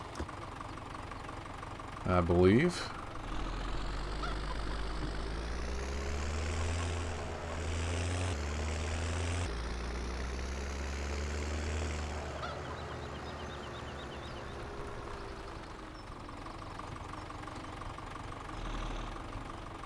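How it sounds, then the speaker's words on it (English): A tractor engine idles steadily in Farming Simulator 17, a low continuous drone with a brief louder rev early on, while someone talks over it now and then. "So we're going to hop in this tractor."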